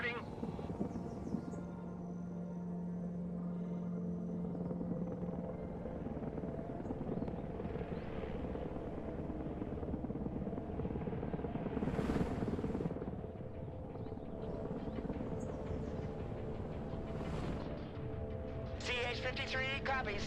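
A CH-53 heavy transport helicopter in the Broken Arrow video game lifts off and departs, its rotor thrum steady and moderately loud under scattered game effects and radio chatter.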